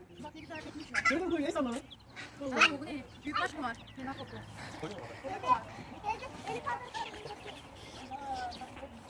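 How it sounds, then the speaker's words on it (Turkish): Chickens cluck and chatter in short bursts close by, with people talking over them. "Bakın burada tavuklar var."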